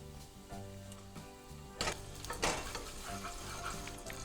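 Garlic and salt hit hot olive oil in a pan, giving a soft, steady sizzle that swells into louder crackling bursts partway through and keeps frying evenly afterward.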